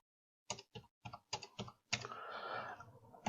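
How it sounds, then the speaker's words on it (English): Keys clack on a computer keyboard in a quiet room, half a dozen crisp separate strokes followed by a brief rapid burst of typing, close and fairly faint. "You simply start typing."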